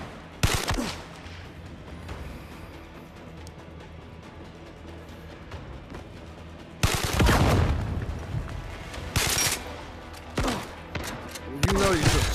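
Gunfire in the Zero Caliber survival video game, sharp bursts of shots and rapid automatic volleys with quiet gaps between them, loud and close, while someone talks over parts of it.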